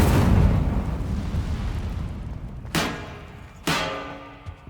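Two sudden whooshing fire bursts from the Incendio spell in Hogwarts Legacy, spaced about a second apart, flare over a loud rumbling game background and trail off quickly.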